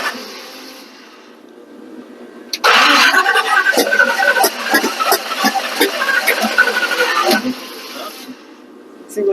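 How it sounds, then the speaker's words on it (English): A Mustang engine cranks and catches, then runs rough and loud with sharp popping backfires through the exhaust before cutting off; voices are heard around it. "That was all backfired. It's all farting out the exhaust."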